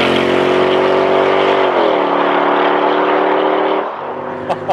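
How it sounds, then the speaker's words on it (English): A Mercedes-Benz SLK55 AMG with its M113 V8 engine revving loud and close, a rich steady drone that shifts pitch partway, then drops to a lower idle near the end, with no talk. "what AMG is famed for, it's glorious sounding V8, and in particular the M113 engine"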